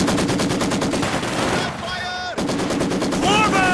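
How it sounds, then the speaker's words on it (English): Soviet machine gun fire in Company of Heroes 2, dense rapid bursts loud and close, breaking briefly into a quieter pause before the gunfire resumes, with faint whistling tones overhead. "Soviet machine gun has been pinned!"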